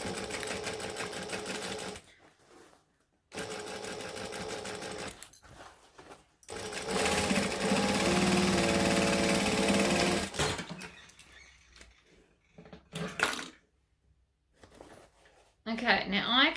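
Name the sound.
sewing machine stitching a crossbody bag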